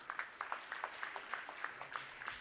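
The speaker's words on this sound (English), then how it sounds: "Please give a round of applause" Steady, fairly quiet clapping from an audience at a college kick-off event, a short round of applause with a regular patter of hands throughout.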